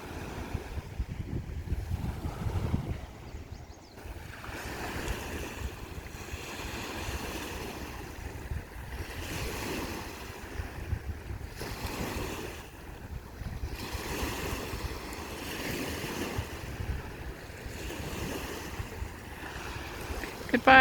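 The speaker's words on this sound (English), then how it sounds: "I like to watch the waves." Waves wash continuously onto a Lake Superior beach on Chequamegon Bay, a steady, fairly loud surf roar mixed with wind buffeting the microphone, with no talking.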